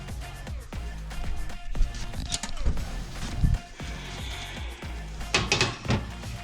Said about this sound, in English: So there they go into the oven until they have baked and they are a nice golden brown color